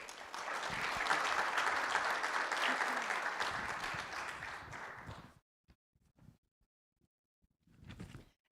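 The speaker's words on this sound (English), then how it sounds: "Let's give Dennis a round of applause." Audience applause rings out at a guide dog graduation ceremony, a dense sustained clapping for about five seconds that then stops abruptly, leaving near silence before a brief final burst of a few claps.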